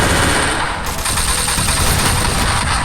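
P90 submachine gun firing in a video game, a loud sustained rattle of rapid automatic shots blending into a dense, continuous roar, with no talking.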